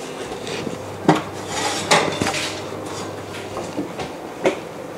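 A metal baking tray of chocolate cashew cookies comes out of the oven, with a few sharp clanks and rattles of metal against the oven rack over a low background hum, close by.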